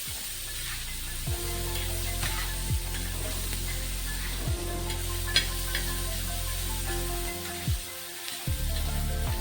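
Garlic and onion tadka roasting in a pan, a steady sizzle with scraping stirs and occasional sharp crackles, close and continuous throughout, with faint background music tones.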